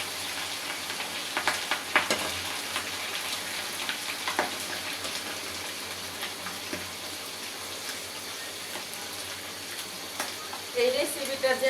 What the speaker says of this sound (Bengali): পাও ভাজলে অনেক সাবধানে ভাজতে নিবি ফুটে